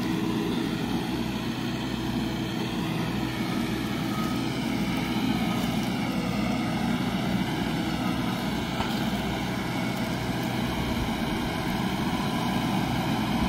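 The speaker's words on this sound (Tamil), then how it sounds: "கலப்பையை தூக்காமையே அழகாக திரும்பி வருதுங்க" A New Holland Workmaster 105 4x4 tractor, 106 HP, turns in a small field with its plough still lowered, its diesel engine droning steadily and loudly throughout with no talk.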